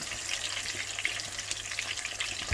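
Fish frying in hot oil for Jamaican escovich fish, a steady dense crackle and sizzle with busy popping bursts, close and continuous throughout.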